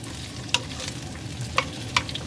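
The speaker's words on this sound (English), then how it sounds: "we'll go ahead and saute this for a few minutes" Asparagus and carrots sauté in a pan with a steady close sizzle, punctuated by three sharp clacks of a utensil against the pan, and no one speaks.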